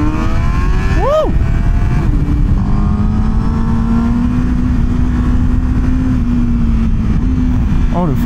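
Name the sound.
Honda CBR1000RR-R SP motorcycle riding on Swiss roads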